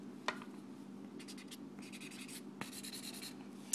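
A marker smudging colour across wet paper in a marker-and-pencil illustration, soft close scratchy strokes in short bursts, with a couple of small taps between them and no talking.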